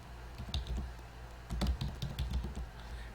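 Fingers typing a business name on a computer keyboard, a steady run of quick clicking keystrokes close to the mic with a slight pause in the middle.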